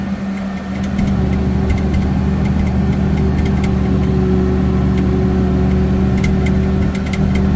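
A tractor in second gear pulls a six-disc plough through a field thick with sugarcane leaves. Its engine holds a loud, steady, close droning rumble with faint rattles and no talk.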